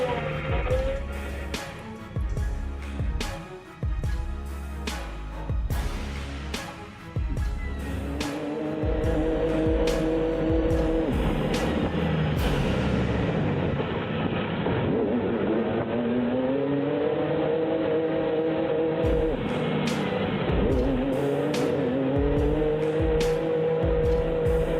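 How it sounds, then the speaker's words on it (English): A heavy haul truck spins its tires without traction, probably while hauling forestry loads. A loud, sustained whine and grind rises and falls in pitch for over fifteen seconds after an earlier stretch of rough engine and impact noise. "Reminder for anyone spinning tires: no traction equals overheating and clutch damage."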